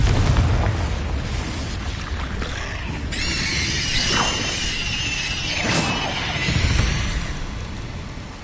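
A Confringo fire spell explodes in Hogwarts Legacy, sending out loud booming bursts with crackling, squealing magical tails. Several blasts overlap across a steady rumble of game combat sound.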